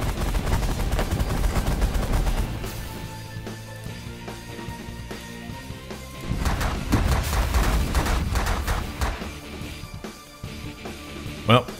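A minigun fires in The Last Federation space strategy game, heard as dense, rapid crackling bursts mixed with steady tonal game music, growing busier toward the end.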